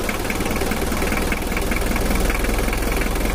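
An old Mitsubishi L300 diesel engine runs with raised RPM, giving a continuous, rough, rattling drone with a steady pulsing knock, close by and unchanging for a few seconds.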